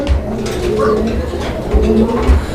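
A pair of Basiraj Koka pigeons, male in front and female behind, coo in low, repeated rolling phrases close by, with a steady hum of background noise.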